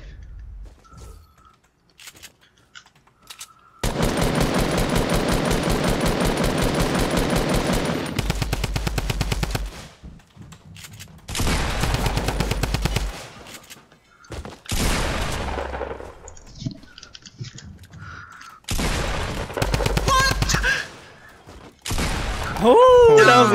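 Fortnite gunfire: long sustained bursts of rapid automatic fire alternate with shorter volleys and single shots, loud and close, with brief quiet gaps and game effects between them, and players talk around the shooting.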